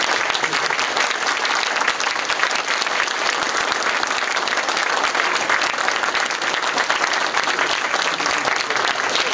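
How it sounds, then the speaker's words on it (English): A large audience claps steadily in sustained applause at a talk on special effects and lip-sync, dense and even throughout with no speech over it. "But let's give Peter a round of applause."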